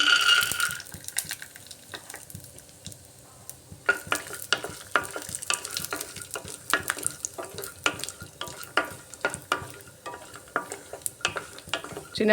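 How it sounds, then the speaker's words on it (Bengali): Peanuts frying in a little mustard oil in a wok, with steady close sizzling and repeated scraping stirs throughout, no voices. "এবার এই তেলের মধ্যে বাদামগুলো ভেজে নিচ্ছি"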